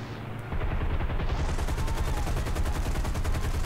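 Dense, continuous gunfire from War Thunder combat, with rapid machine-gun bursts starting sharply after a brief quieter moment and running loud and steady to the end.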